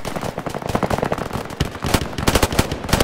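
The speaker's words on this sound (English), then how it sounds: "Got so much outgoing fire right now." Automatic gunfire in the Roblox Fireteam video game crackles in fast, loud bursts of sharp shots, close by and nearly continuous, with irregular gaps between volleys.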